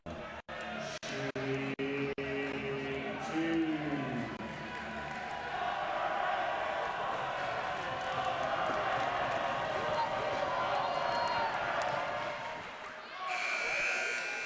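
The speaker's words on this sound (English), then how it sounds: "So very energetic crowd tonight." College basketball crowd in an old arena, a loud sustained roar of cheering with sneaker squeaks and bounces early on, under a commentator's voice.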